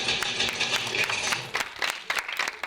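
A cinema audience applauds before a film screening begins, a faint, dense patter of many hands clapping together that thins out into scattered claps toward the end.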